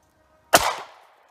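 A single sharp 9mm pistol shot firing a 115 gr Hornady Critical Defense round from a 3.1-inch barrel, sudden and loud after silence, with a brief decaying echo.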